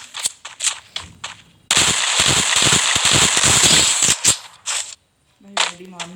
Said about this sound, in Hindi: और कहीं से भी गोलियां चल रही।